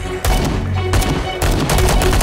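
Sniper rifle fire in the physics-based combat game Paint the Town Red comes as loud, booming blasts, two or three heavy reports that each ring out for a moment and run into one another, with no talking.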